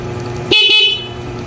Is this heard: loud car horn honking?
yes